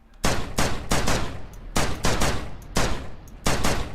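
Bursts of automatic gunfire in a battle royale shooter with an AKM rifle, three long sustained volleys broken by brief pauses, loud and close with no talking.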